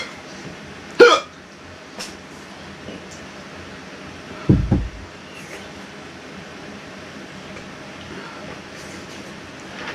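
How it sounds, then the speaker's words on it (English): A man hiccups after eating Carolina Reaper peanut butter cups, giving two sharp, close hiccups several seconds apart over a steady low hum of room noise. "Hiccups."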